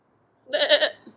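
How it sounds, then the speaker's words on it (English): A single short sheep bleat, clear and fairly close against silence, lasting under a second. "Sheep."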